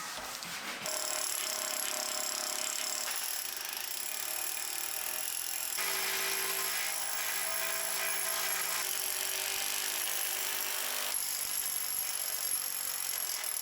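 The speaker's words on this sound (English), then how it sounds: "I just finished using that hammer drill" A loud, steady mechanical drone of a hammer drill running continuously into concrete for a countertop, with slight shifts in pitch as it works.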